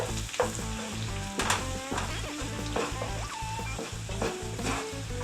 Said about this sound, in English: we want to kind of mix the flour into the butter